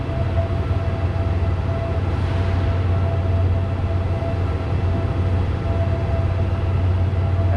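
A train stands at platform 3 of Hua Lamphong railway station in Bangkok, giving off a steady, loud idling rumble with a constant low hum that carries on unbroken, with no voices.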